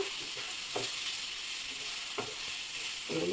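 Eggs fry in a curry in a pan, giving a soft, continuous sizzle with a few faint stirring clicks, quiet and close, with no voices.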